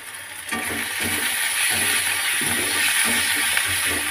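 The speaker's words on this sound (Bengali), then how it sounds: "দেখো টমেটোটা দিয়ে দিচ্ছি, আদাটাও দেবো।" Tomato added to a hot frying pan for a bitter gourd curry sizzles in a steady, loud, broadband hiss that swells after the first half second and keeps crackling alone throughout.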